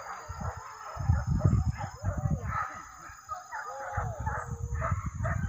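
Hunting dogs bark repeatedly in a rapid, overlapping chorus during a village hunt, loud and close, with a rooster crowing faintly and people talking in the background.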